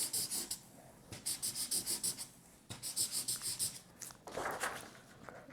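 Flip chart markers squeak across IKEA MÅLA paper in quick rhythmic strokes, short bursts repeating in tight runs with brief pauses between, close-miked and crisp, ending in a softer rubbing scrape.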